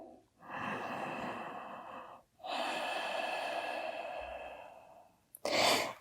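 Deep yoga breathing close to the mic: a long slow exhale, a brief pause, then another long breath, ending in a short sharp intake.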